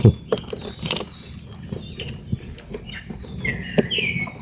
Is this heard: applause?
no